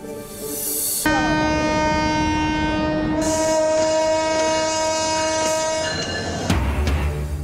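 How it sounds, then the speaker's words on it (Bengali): A crowded passenger train packed with people, some riding on the roof, runs past loudly with a long sustained horn blast over steady rumbling wheels, then a brief lull before a burst of close rolling noise. "যাত্রী ঠাসা বগি আর ড্রেক ভর্তি মানুষ নিয়ে বাড়ির পানে ছুটছে ট্রেন লঞ্চ"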